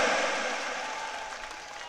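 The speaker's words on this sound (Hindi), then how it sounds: "आप जोरदार तालियां बजाकर स्वागत करें।" Crowd at an outdoor political rally in Baytu applauds to welcome a speaker: a dense, fairly faint wash of clapping that slowly tapers over two seconds.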